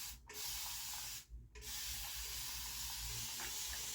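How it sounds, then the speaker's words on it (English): Steady, close hiss of fine aerosol-like mist from a continuous spray water bottle wetting braided hair, running continuously with two brief gaps before carrying on. "It's almost like an aerosol spray."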